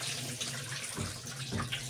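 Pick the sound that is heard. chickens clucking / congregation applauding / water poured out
water poured out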